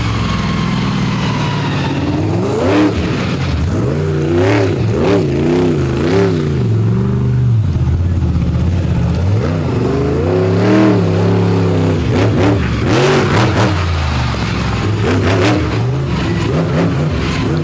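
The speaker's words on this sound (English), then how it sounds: "Up next, Zach Witchenbach in the GMC Lumberjack out of Jefferson, Maine." The GMC Lumberjack monster truck's engine revs loudly and repeatedly at a night monster truck show in Benson, North Carolina, surging up and down in pitch through a series of aggressive throttle blasts with no talk.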